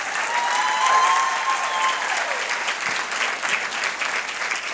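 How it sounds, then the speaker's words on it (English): Warm, full applause from a campaign kick-off crowd for Pam Gregory, loud and continuous, swelling near the start then holding steady, with a faint tone ringing briefly underneath. "One more time, a round of applause for Pam Gregory"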